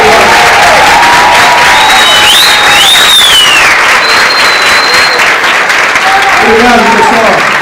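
Loud, continuous applause from a school audience clapping for students after a sports-culture lesson performance, filling the whole span with dense clapping and some cheering voices mixed in.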